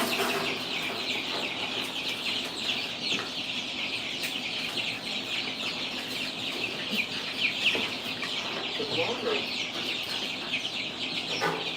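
A brood of baby chicks cheeps constantly, with high, thin peeps overlapping in a busy, unbroken chorus. It sounds close and moderately quiet, with occasional soft bumps and no talking.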